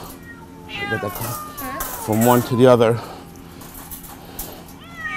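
A stressed cat meows loudly and repeatedly while being transferred from one trap to another transfer cage during an animal-hoarding rescue, its cries overlapping with nearby talking.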